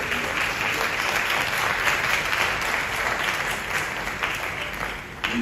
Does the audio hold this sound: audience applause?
yes